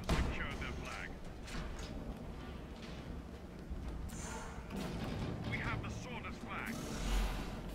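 A turret fires in the Tribes capture-the-flag video game, a long-range weapon weaker than the light turret, giving scattered booming shots and thuds at modest volume over steady game ambience.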